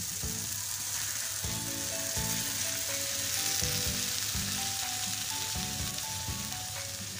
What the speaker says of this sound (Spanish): vamos a agregar la salsa que acabamos de licuar